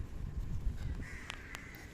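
Crows call outdoors on a quiet island: two short, distinct caws in quick succession, fairly faint and distant over a soft low background rumble.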